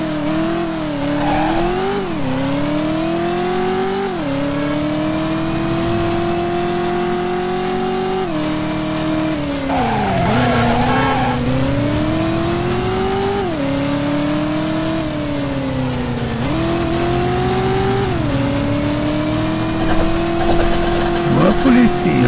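A car in the PlayStation game Driver cruises through hilly San Francisco, its engine droning loudly and steadily, pitch rising and dropping repeatedly with each shift and acceleration, while someone talks over it.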